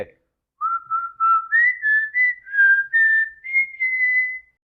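A film-song melody is whistled close up for the teaser of the Rajinikanth film Coolie, as a clear, tuneful phrase of about ten sliding notes that rises gradually, alone with no talk.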